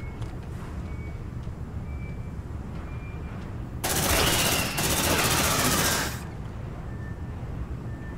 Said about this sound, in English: Sentry gun loaded.